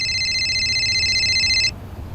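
A telephone rings with a steady, bright electronic trill that lasts under two seconds, then cuts off and leaves a low room hum.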